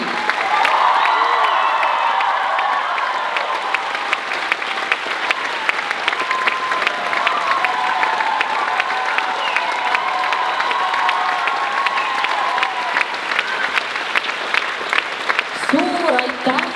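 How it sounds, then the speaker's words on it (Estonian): Sustained audience applause at a school spring concert in a hall, dense steady clapping with some cheering voices, loud and continuous throughout. "suur aplaus"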